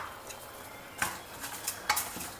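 Urad dal and dry red chilies roast in a teaspoon of oil, with a faint steady sizzle under a few sharp spoon scrapes against the pan, close and quiet.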